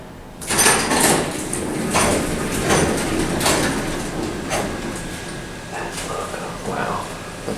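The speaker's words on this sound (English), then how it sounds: "Clunking, interlocking, the humming," An original Otis traction elevator door operator at a hospital clunks and whirs in repeated mechanical strokes, with a steady hum underneath, fairly close and loud throughout.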